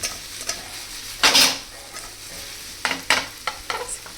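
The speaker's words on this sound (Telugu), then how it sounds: "పొటాటోస్ బాగా ఫ్రై అయిపోయాయి" Potatoes fry in a pan for a potato fry dish, with a soft steady sizzle broken by several sharp scraping stirs, one strong burst early and a cluster of quicker scrapes near the end.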